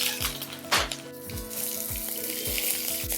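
Onions and curry leaves hit hot oil in a pan along with chana dal and urad dal, giving a crackling sizzle with a few sharp spatters and pops, close and fairly loud, no voices.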